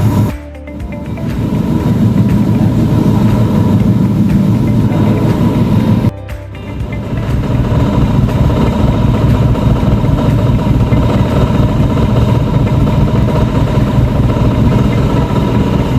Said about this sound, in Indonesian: mesin pincang Pak. Mesinnya pincang.